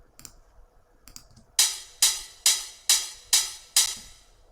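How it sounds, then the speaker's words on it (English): Techno hi-hats, low cut with widened stereo, in a track breakdown: faint ticks at first, then six bright, evenly spaced hat hits with short decaying tails. "hats in here that sound like this."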